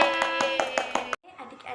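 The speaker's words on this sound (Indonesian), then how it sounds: "tepuk tangan untuk semuanya" A classroom of children claps together in a brief burst of quick, close, lively applause that stops abruptly, followed by faint chatter.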